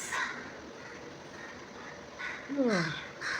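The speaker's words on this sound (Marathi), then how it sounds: "खूप पक्ष्यांचा किती किलबिलाट ऐकू होते." Several harsh crow caws ring out near the end, with fainter bird calls in the background and a voice speaking.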